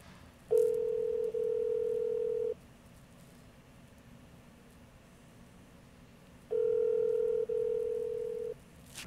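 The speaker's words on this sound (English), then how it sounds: "So it's dialing." A telephone handset sounds two long, steady electronic tones about six seconds apart, loud and close, with quiet hiss and no talk between them.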